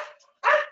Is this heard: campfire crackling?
no